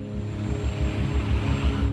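A helicopter hovers overhead during a snowstorm rescue, its rotor beating in a steady low thudding rhythm under a constant engine drone, loud and close.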